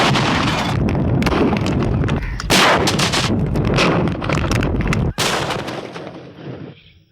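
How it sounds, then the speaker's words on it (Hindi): Artillery gun fire in a war short film about Major Aziz Bhatti: loud, sustained roaring blasts and booming bursts, close and dense, with a sharp break near the end before the rumble fades. "1 राउंड गन फायर।"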